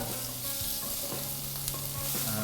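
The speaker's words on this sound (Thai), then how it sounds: "ผัดจนกุ้งเนี่ย สุกนะครับ" Shrimp stir-fried in a hot wok for a Thai stir-fry of sea bass with Chinese bamboo shoots, a loud continuous sizzle with stirring scrapes throughout, close and alone.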